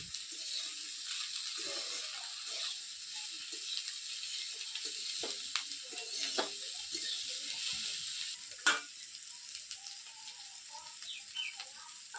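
Chopped capsicum sizzles steadily in a hot pan while veg paneer chowmein is cooked, a continuous bright hiss with a few sharp crackles and pops, close and fairly quiet, with no voices.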